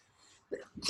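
A single short sneeze bursts out abruptly at close range in a quiet room during a podcast conversation, preceded by a small intake sound.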